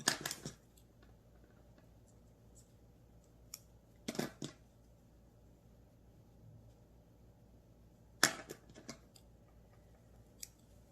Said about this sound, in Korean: 조금 붙은 건 가위로 잘라주고